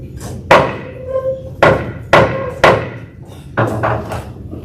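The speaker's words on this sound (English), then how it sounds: "Get the hammer." Gavel hammer struck on wood to adjourn an American Legion post meeting, six sharp loud knocks in an irregular sequence with short ringing decays between them.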